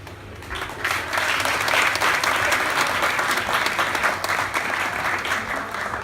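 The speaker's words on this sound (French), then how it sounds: "Applaudissez pour Zion, s'il vous plaît." Audience at a hip-hop talent search in Douala, Cameroon clapping for a rapper, a dense, continuous burst of applause that swells within the first second and holds steady with a lively, close crowd feel.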